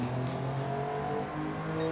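A race car engine in Gran Turismo 7 hums and revs with shifting tonal pitch, moderately loud and steady, with no voices.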